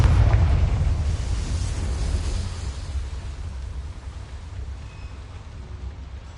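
A Confringo blasting spell explodes in Hogwarts Legacy as a deep booming burst that rolls off into a long, fading rumble, heard alone.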